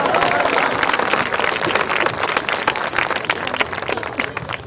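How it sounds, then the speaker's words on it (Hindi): An audience at a Hindi comic poetry recital claps in a dense, steady burst that stays loud and close the whole time without thinning out. "ताली बजाओ"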